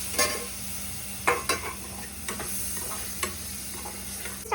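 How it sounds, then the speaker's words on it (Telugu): Tomato pieces fry with onions in a hot pan, a steady close sizzle punctuated by a few crisp spatula strikes and scrapes spaced about a second apart. "ఇప్పుడు టమాటా ముక్కలు వేసి కూడా మనం బాగా వేయించుకుందాం"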